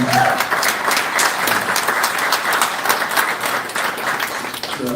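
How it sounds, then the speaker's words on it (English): A crowd applauding steadily at a township meeting, dense clapping that holds at an even level for the whole stretch with no voices breaking through. "Please give a round of applause to these Thornton Township employees."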